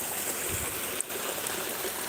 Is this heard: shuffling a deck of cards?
no